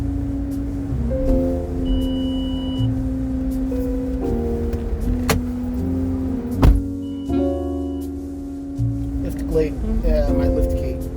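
Car lift gate motor acting up, a steady electric whine shifting pitch in steps over a low drone of the vehicle, with a couple of sharp clicks and a thump.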